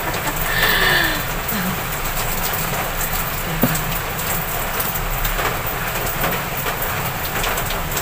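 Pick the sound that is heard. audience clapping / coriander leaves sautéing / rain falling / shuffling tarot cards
rain falling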